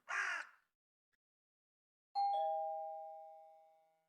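A doorbell rings once, after a short harsh crow-like caw. It gives a clear, sustained electronic ding that slowly decays into silence in an otherwise quiet room, with no voices heard.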